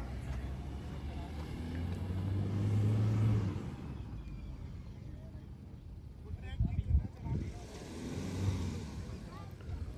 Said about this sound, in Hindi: अपनी फॉर्च्यूनर चढ़ा के देख रहे हैं